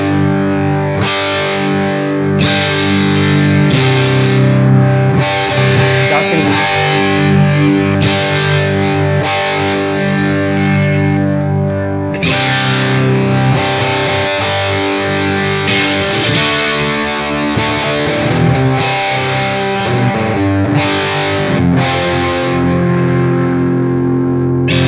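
A Squier Paranormal Cyclone electric guitar with all pickups on and tone up plays distorted riffs and chords through effects with reverb, loud and up close for a sustained stretch, with no talking.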